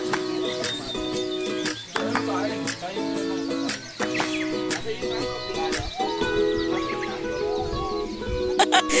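Chickens clucking and calling repeatedly nearby, with other bird chirps mixed into a busy outdoor background.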